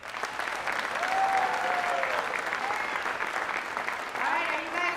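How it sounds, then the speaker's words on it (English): An audience at a dance show breaks into sustained applause, dense clapping filling the room with some cheers and voices mixed in, steady and fairly loud throughout. "Big round of applause, please."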